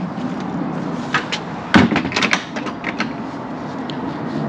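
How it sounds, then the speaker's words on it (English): A door is pushed shut outdoors in windy conditions, giving one firm thud with a short rattle of latch and frame after it, set against steady wind noise. "Shut the door behind me."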